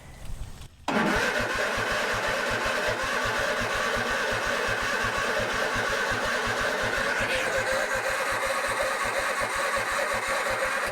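A Cub Cadet RTZ mower engine with a newly replaced fuel pump, choke on, cranks briefly after a short quiet gap, then catches and runs loud and steady with a fast, even chugging rhythm close by.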